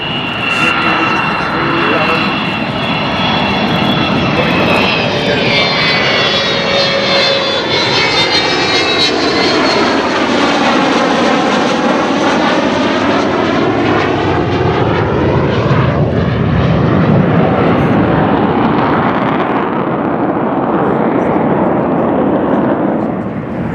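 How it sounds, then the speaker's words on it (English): An Avro Vulcan B2 XH558 vintage delta-wing jet bomber roaring through a flying display at Dunsfold Wings & Wheels 2015, a loud sustained jet howl with rising and falling whine as it passes and banks, heavy rumble throughout. "Vulcan is, of course, a vintage or a veteran jet plane"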